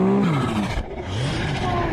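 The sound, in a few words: snowmobile engine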